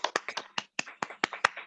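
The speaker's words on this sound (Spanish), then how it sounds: "les pido que abramos nuestros micrófonos para darle un aplauso a la maestra Jocelyn" Scattered claps from a small online audience over open microphones, about eight separate sharp hits spaced unevenly in under two seconds, fairly faint and without talk.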